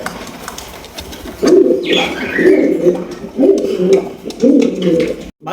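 Bombay pigeons cooing at close range, several repeated low throaty coos in rhythmic bursts, loud and clear with faint background noise.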